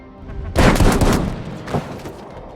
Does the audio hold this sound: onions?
no